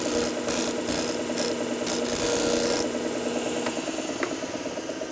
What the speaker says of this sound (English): with just a few seconds here at the disc sander, we can bring this curve right up to where it should be